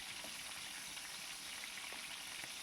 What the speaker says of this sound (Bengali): এবার আমি ভেজে তুলে রাখবো চিকেনটাকে বেশ লাল লাল করে